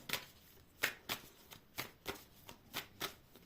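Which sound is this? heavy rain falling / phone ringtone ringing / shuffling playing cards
shuffling playing cards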